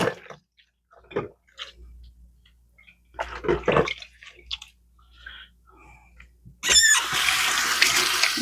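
Hands washed at a kitchen sink: a few scattered clinks and rubbing sounds, then a tap opens and water runs steadily and fairly loudly near the end.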